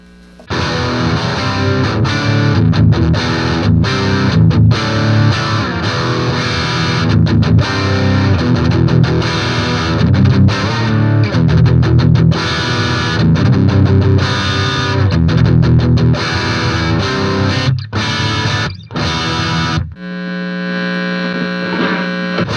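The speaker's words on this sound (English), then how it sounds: "I want to hear what the drive channel sounds like on this amp." Heavily distorted electric guitar through the overdriven drive channel of a Crate 15-watt amp with a DOD Grunge pedal, loud and continuous with chords and riffs, ending on a sustained ringing tone.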